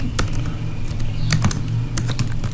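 Clattering keystrokes on a computer keyboard while writing Python code for a JSON config file, irregular bursts of close, crisp taps with short pauses between them.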